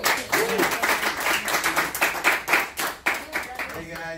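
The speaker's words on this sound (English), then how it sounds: "So how about a great big hand clap for Rick?" An audience at a presentation breaks into hand clapping and applause, a dense, lively patter of many hands that pulses close and loud throughout, with voices mixed in.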